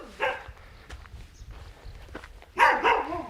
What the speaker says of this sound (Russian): О, собачки. Проснулись. Охотничьи собачки у хозяина.